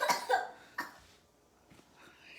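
A person coughs a few times in quick succession, a close, sharp burst of coughs followed by a quieter throat sound and faint trailing noise, with no talking.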